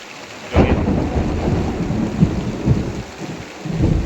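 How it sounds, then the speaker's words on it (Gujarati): A thunderstorm brings heavy rain pounding steadily, with a loud thunder crack near the start and rumbles rolling through. No one speaks. "ફૂલ વરસાદ ચાલુ છે ભાઈ અને વીજળી કટકાના અવાજ થઈ રહ્યા છે"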